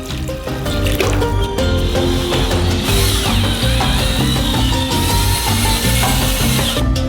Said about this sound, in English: Install a construction whisk into a screwdriver. In adding water, knead the gypsum.